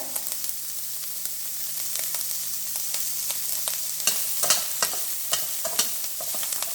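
Onions with salt and curry leaves frying in a pan for kondakadalai sundal: a steady close sizzle with frequent crisp stirring clicks and scrapes, growing busier toward the end, no talking.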